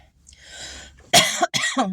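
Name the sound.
cough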